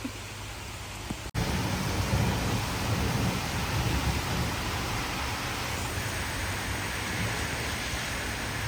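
Heavy rain pours down outside in a dense, steady wash of noise, a sudden downpour so thick it forms a wall of water; after a brief dropout near the start it continues loud and unbroken with no voices.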